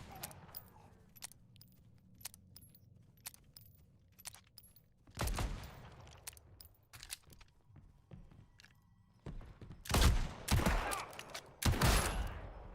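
Gunfire in Legend of California, an open-world Western game: faint scattered clicks and distant pops, then several loud close bursts of shots toward the end. No talk.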